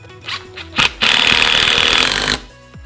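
A power driver sinks screws into a DIY cat scratching post, a few short bursts and then one long, loud, steady buzzing run that stops abruptly, close up with no talk.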